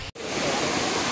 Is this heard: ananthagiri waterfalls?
yes